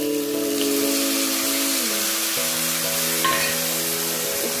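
Soya chunks with soy sauce and vinegar being stirred in a hot pan, a loud continuous sizzle with a steady tonal hum running underneath, close and without speech.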